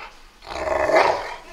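A single close dog bark with a growly, drawn-out tone, loud and alone.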